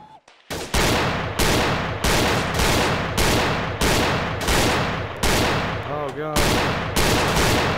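Rapid, evenly spaced gunshots at a shooting range in Gun Club VR, loud and close, each crack running straight into the next in a steady string of about ten shots.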